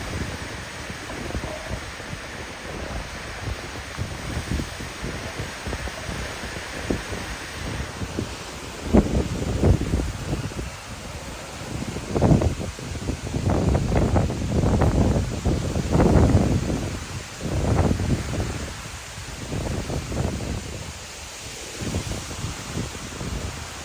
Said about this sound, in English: Meanwhile, the wind's out of control.